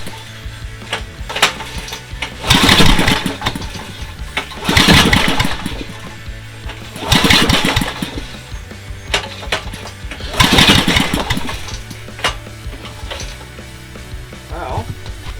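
A Briggs 4000W generator engine is pulled over on full choke, giving four loud, evenly spaced bursts of pull-start cranking that never catch, with quieter mechanical rattles in between.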